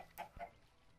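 A single short cluck from a Minecraft chicken, close and faint, over in under half a second and followed by quiet.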